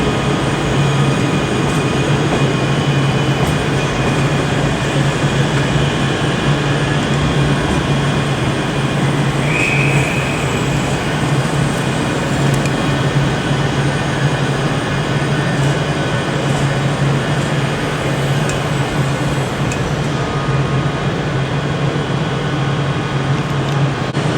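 A Class 385 electric train from Edinburgh Waverley via Shotts, unit 385006, at Glasgow Central station, gives a loud, steady rumble and whine of traction and wheels that fills the whole stretch without speech.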